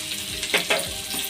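Onion and green chillies fry in hot oil with pulav masala, a soft continuous sizzle broken by a few quick stirring scrapes against the pan.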